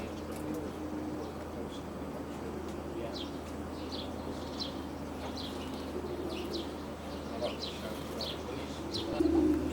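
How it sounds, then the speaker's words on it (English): Racing pigeons cooing in a loft, soft repeated coos and chirps over a steady low hum, moderately close and fairly quiet, with a slightly louder stir near the end. "Another quality pigeon, Tony."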